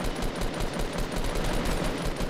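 Rapid gunfire in a Fortnite match, bursts of shots in a quick rhythmic stream that stays loud and close throughout, with no talk over it.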